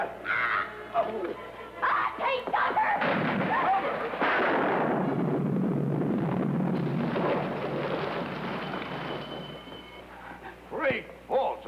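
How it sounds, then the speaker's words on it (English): A bomb blast sound effect in a colorized 1950s sitcom bursts in around the middle as a loud, sustained rumbling roar, with excited voices talking before and after it. "Good heavens, that was a bomb."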